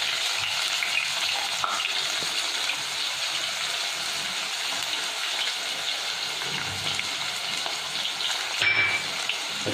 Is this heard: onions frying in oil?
yes